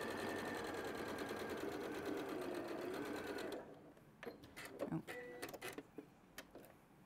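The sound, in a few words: sewing machine stitching quilt layers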